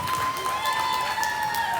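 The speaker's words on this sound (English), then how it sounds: "Let's get a big round of applause here for our heavyweight spot exhibitors" Audience applause fills a livestock show arena at the 2021 Arizona National Junior Market Barrow Show, a steady, dense clapping wash lasting the whole moment, with a faint tonal hum running underneath.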